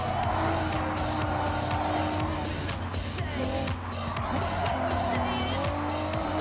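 Honda NSX GT race car lapping a circuit in GT Sport, engine whining steadily with repeated tire squeals and skids through corners, loud and continuous with brief dips as it shifts.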